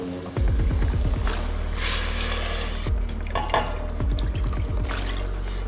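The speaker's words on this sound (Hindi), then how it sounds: "चार टमाटर के अंदर दो कप पानी" Water is poured into a cooking pot holding four tomatoes for rasam, a steady splashing pour with bubbling glugs, heard close with a few brief pauses.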